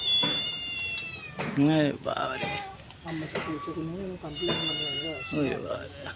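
A cat meows several times in drawn-out, wavering cries, close by, alternating with people talking.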